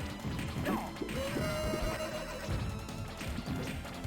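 Horses whinny in the TMNT Turtles in Time arcade game, one long neigh ringing out amid crashes, hoofbeat clatter and busy game noise, with no talking.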